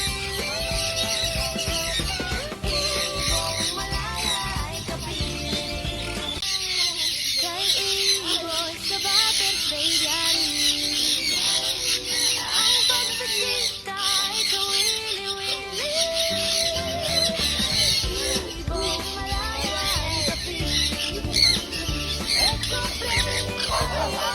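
A bird squawks and squeals harshly again and again, close by, amid constant background noise and music.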